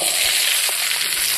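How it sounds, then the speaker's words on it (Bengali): Fried chickpeas, soybean chunks and potato frying in a kadai, making a loud, constant hiss of sizzling oil very close up, with faint stirring and no voices. "ভাজা করা বুট, সয়াবিন, আলু এখন আমি ঘান্টার জন্য ছড়িয়ে দিলাম।"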